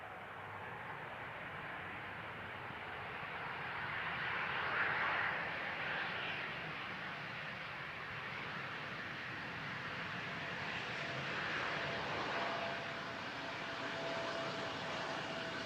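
An Embraer airliner arrives on runway 18R at Amsterdam Schiphol, a steady broad jet roar heard from a distance that swells slightly as the plane passes, continuous and unbroken with no voices.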